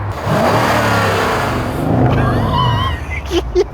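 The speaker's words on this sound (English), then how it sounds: "This, everyone, is the AMG Mercedes." A Mercedes-AMG CLS 63 engine revs loudly up and down at close range, a deep sustained roar that fades into faint background sounds.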